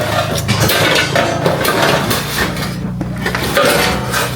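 Dishes and plates clatter and scrape near a house in a rural barangay cleared of mud, loud and continuous with irregular knocks, some distant voices underneath.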